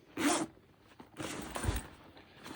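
An unbranded zipper on a cheap bag is pulled in two quick rasping strokes, close and crisp, the second longer and rougher, with light handling noise around them.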